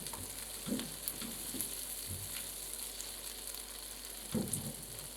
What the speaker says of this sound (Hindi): तो अब तब तक हम इसमें चम्मच हिला के इसे फ्राई करेंगे।